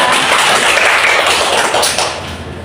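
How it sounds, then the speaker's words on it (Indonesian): Classroom students clapping together for a classmate, a dense, loud patter of many hands close by that fades slightly toward the end. "Tepuk tangan untuk Anggita."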